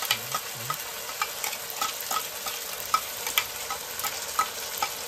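Onions and spices fry in a pan on a steady sizzle while a utensil stirs and scrapes in irregular strokes, the cooking noise close and continuous with no talk.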